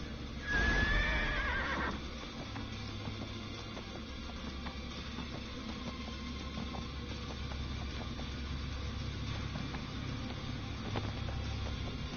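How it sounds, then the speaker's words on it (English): A horse whinnies briefly near the start, followed by steady rhythmic hoofbeats clip-clopping under a constant background drone, in the game Neverwinter. "there's a lot of horses hooves going on"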